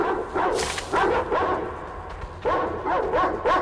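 Dogs in the video game Metro Exodus barking and yelping loudly in bursts, several sharp barks near the start and more clustered near the end, with no speech.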